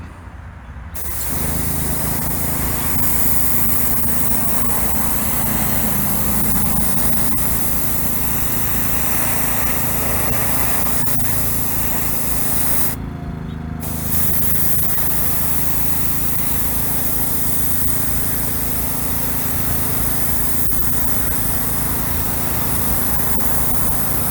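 An airbrush lays down a wet coat of House of Kolors paint, a loud steady hiss that starts after a second, breaks off briefly around the midpoint, then resumes and runs on unbroken, with no voices.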